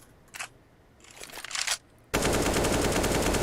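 Rapid automatic gunfire in the shooter game CS:GO, a few faint shot bursts first, then a sudden loud, sustained rattle of sprayed shots filling the second half.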